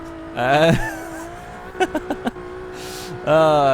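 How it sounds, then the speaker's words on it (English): A front-wheel-drive Pontiac Aztek built to 875 horsepower spins its wheels in Forza Motorsport 6, its engine surging and revving in loud bursts with a quick run of rhythmic stutters between them. "now we've got to wheel spin the entire way down here"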